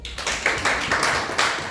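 Church congregation clapping during a Hindi sermon, a run of fairly close, bright hand claps in uneven bursts that swell and fade over a couple of seconds, with no talk over it.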